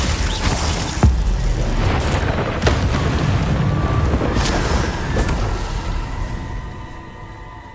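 A Confringo explosive spell goes off in Hogwarts Legacy amid other spell-casting effects, with several booming blasts and sharp bursts over a dense, rumbling combat soundscape that gradually thins out toward the end.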